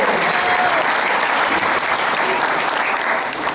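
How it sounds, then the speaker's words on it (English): An evening program audience applauds loudly and steadily, a dense wash of clapping from a large crowd that fills the whole stretch without talk. "Please give them another round of applause."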